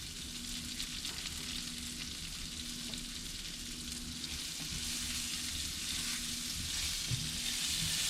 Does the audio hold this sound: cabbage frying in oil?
yes